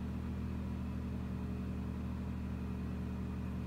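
A Generac iQ2000 portable inverter generator running wide open at full load hums in a steady, even drone at constant speed, heard from a short distance with no voices.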